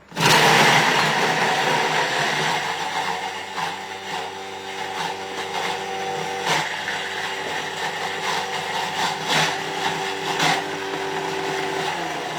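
Thermomix food processor (TM6/TM5) chopping fridge leftovers at speed 8, a loud steady whirring motor roar with blades whizzing continuously for about twelve seconds, alone without talk.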